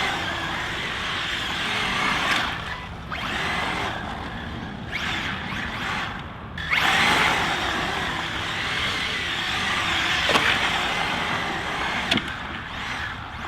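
A ZD Racing EX-07 RC drift car runs through dust in a steady buzzing motor whine that swells and dips as it slides around, continuous and fairly close, without talking.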